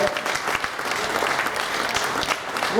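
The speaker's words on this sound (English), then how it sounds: "round of applause" An audience at the World Superbike paddock show at Donington Park applauds, a steady wash of clapping from a crowd with occasional louder individual claps close by, filling the whole moment without a pause.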